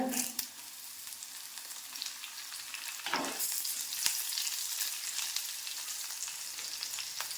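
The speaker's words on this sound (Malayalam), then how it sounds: "പിന്നെ ഞാൻ ചേർത്ത് കൊടുക്കുന്നത് കറിവേപ്പിലയാണ്." Curry leaves and sliced dried red chillies sizzle and spit steadily in hot oil with ginger and shallots, a dense crackle that swells briefly as fresh leaves hit the pan, with no one speaking.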